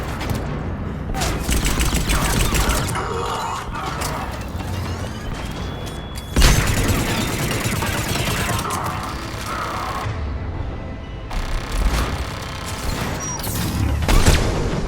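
Sustained heavy gunfire in the Mass Effect 3 Omega station assault, with dense continuous automatic bursts and battle noise running throughout, a few sharper impacts standing out, and shouted voices briefly over the fighting.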